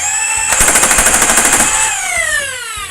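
A 3D-printed WP-15M full-auto Talon foam blaster fires a rapid, steady burst of shots for roughly a second and a half, loud and close, with a whirring motor hum running before and after the volley.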